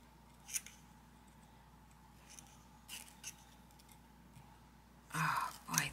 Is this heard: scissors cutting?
yes